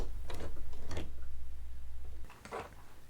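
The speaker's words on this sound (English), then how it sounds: "Just make a few stitches manually by turning the hand wheel." A sewing machine fitted with a walking foot makes a few stitches as its hand wheel is turned by hand. A low steady mechanical rumble ticks in an even rhythm, with a couple of clicks and a thunk near the end.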